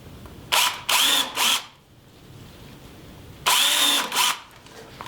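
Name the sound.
power drill drilling a pilot hole in a door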